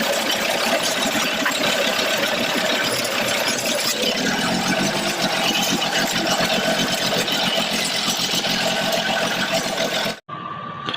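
A tractor engine drones loudly and steadily for a long stretch while ploughing a cotton field, then cuts out abruptly near the end.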